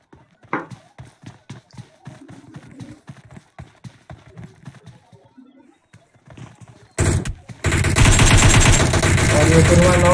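Video game battle gunfire in a steady series of sharp, rapid shots, a few seconds of near silence, then a loud dense burst of continuous firing and explosions to the end.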